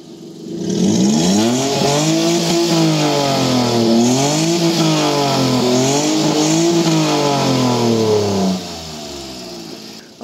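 A modified Maruti Alto 800 with a Valvetronic exhaust, valve open, revs loudly and repeatedly, rising and falling in pitch with a deep, throaty exhaust rumble, close by, before cutting off.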